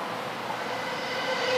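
Trains rumble past near Kita-Shinagawa station in Tokyo, where Shinkansen and Yamanote line tracks run side by side, making a steady, close, continuous roar of wheels and cars with no speech.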